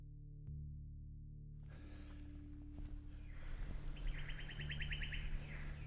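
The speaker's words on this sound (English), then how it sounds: "you hear that little bird behind me? I don't know what it is, but he sounds pretty cute." Small bird singing in frosty Australian bush at sunrise, a series of bright, repeated chirping phrases rising over a low steady background hum, fairly close and clear, with other faint bird calls around.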